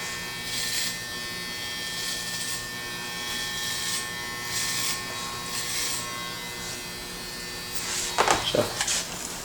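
Electric hair clippers with a 1/2-inch and 1/4-inch guard buzz steadily while fading a barber cut with a square hairline, a close, continuous whine with short clipping bursts near the end.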